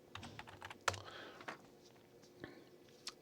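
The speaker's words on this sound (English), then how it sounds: "put in your very super secret password." Password being typed on a Mac keyboard: a short, quiet run of close key taps, irregular and sparse, with a few sharper clicks standing out, alone without talking.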